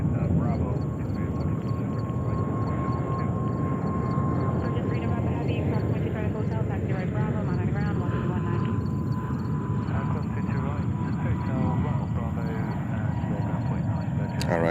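An Emirates Airbus A380 rumbles on runway 22 right at JFK airport, a steady loud roar of jet engines throughout, with people talking over it.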